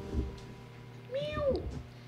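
A cat gives one clear, drawn-out meow, rising and then falling, close by against a low hum of room noise.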